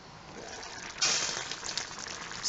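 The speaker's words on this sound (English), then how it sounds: "we will let it simmer gently until it's all cooked." Basmati rice with vegetables simmering gently in a pot on a stovetop, a soft continuous bubbling hiss that swells slightly partway through and stays steady, close and fairly quiet.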